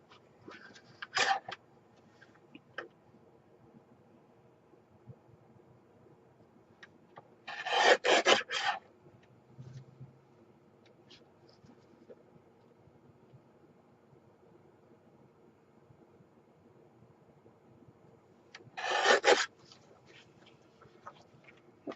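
Paper strips are cut for Stampin' Up card making: three separate short, rasping cutting strokes, each lasting about a second, with quiet stretches between them.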